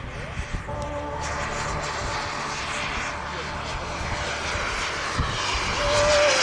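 Jet aircraft flying a formation aerobatic display at an air show, a continuous loud roar of engines that swells toward the end, with a commentator talking over it.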